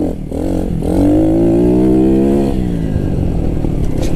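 Pit bike engine revving hard on dirt as the rear wheel spins, a loud, close, sustained rising engine note lasting several seconds before easing off, with no talking.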